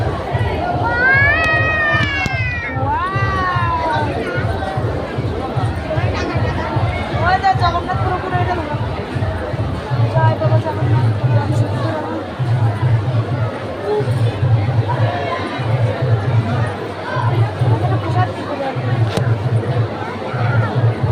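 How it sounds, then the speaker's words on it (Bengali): A dense crowd at a Durga puja pandal, a continuous babble of many voices heard from a distance, with a steady rhythmic drum-like thumping underneath and occasional high shouts rising above the din. "এই দেখো কত ভিড়, আমি দূর থেকেই ভিডিও করছিলাম।"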